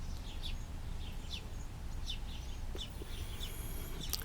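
Sparrows chirping at a porch feeder, with short, high, scattered chirps over a steady outdoor background hum and no voices.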